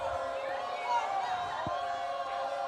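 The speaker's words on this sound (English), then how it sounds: "And now the crowd is getting loud." Crowd noise rising at a college football game, California Lutheran versus Chapman, with a steady murmur of spectators swelling under the stadium ambience.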